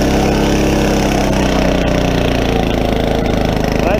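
A Troy-Bilt Horse rototiller engine runs steadily and loudly up close while tilling soil, a continuous mid-pitched drone with no pauses or voices.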